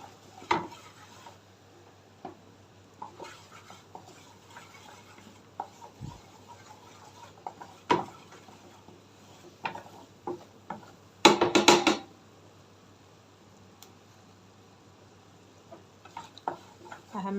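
Flour toasting in a pan for a meat sauce, a quiet sizzle under a low steady hum, broken by spoon scrapes and clinks of metal against the pan, with one loud burst of stirring near the middle.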